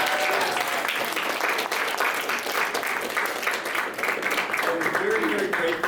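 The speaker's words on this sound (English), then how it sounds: "Please give them a round of applause." An audience at a student scholars symposium claps in sustained, dense applause that stays loud and even for about six seconds.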